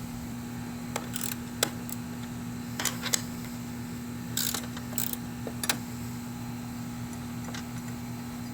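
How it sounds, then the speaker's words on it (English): A ratchet wrench works 13 mm bolts during a radiator job on a Chevy Cruze 1.4L turbo, giving brief scattered clicking bursts over a steady low hum, faint and close. "I'm just going to get in there with a ratchet wrench."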